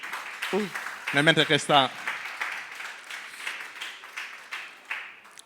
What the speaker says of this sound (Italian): Io prima di tutto farei un applauso a Marina